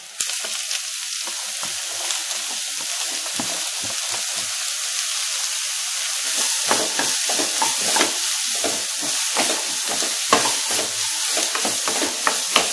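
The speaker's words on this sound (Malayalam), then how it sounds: "ഇപ്പം ഞാൻ നന്നായിട്ടൊന്ന് ഇളക്കി കൊടുത്തിട്ടുണ്ട്" Bitter gourd frying in a pan with crushed chilli, a steady close sizzle with repeated soft scrapes and stirring strokes that grow busier toward the end.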